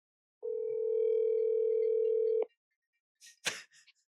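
A telephone dial tone sounds steadily for about two seconds, then cuts off, followed by a brief burst of noise and a few quick clicks, set up for a prank call.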